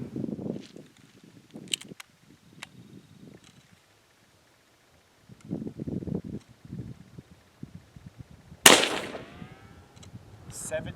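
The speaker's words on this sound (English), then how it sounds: "Getting ready to shoot 22 mag." A .22 Magnum rifle firing a CCI 40-grain Total Metal Jacket round cracks once, loud and sharp, after a stretch of quiet outdoor shuffling and low rustling.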